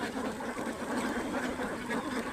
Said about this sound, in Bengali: আমার হাঁসগুলা